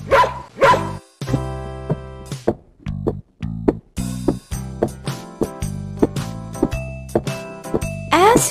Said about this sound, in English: The dog is barking at a man.